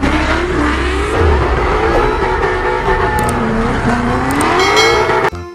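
A toy race car carried on a long toy transport truck gives off a loud, continuous whirring motor sound with rising and falling pitch sweeps like revving, ending in an abrupt clatter.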